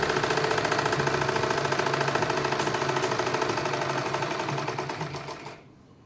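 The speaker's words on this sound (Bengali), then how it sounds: "বলতে বলতে আমার সেলাইটা কমপ্লিট করছি" A sewing machine rapidly stitching a cotton nightie, a close, even mechanical rattle that runs continuously, then slows and stops near the end.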